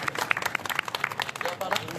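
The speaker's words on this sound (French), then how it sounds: "On applaudit très fort, s'il vous plaît." Audience clapping at a magic show, a dense, steady patter of many hands lasting about two seconds, fairly close and loud with crowd murmur mixed in.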